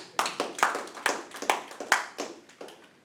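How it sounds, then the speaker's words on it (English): A small audience claps for a club member at a club membership-building meeting, a sparse run of about a dozen distinct nearby hand claps over three seconds, fairly quiet and without talk. "Can we have a round of applause for him?"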